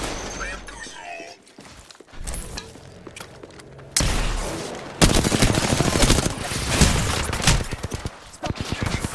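Rapid gunfire in the battle-royale shooter Apex Legends, with close automatic bursts, sharp cracks and shattering impacts in uneven volleys. A voice talks between the shots.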